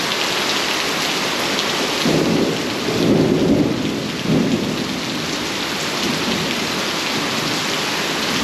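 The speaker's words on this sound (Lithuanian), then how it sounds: "Aš tik neįsivaizduoju, ar per kamerą girdis tas dundulis" Thunder rumbles in several low swells, swelling twice in the middle, under a constant wash of heavy jungle rain with no one speaking.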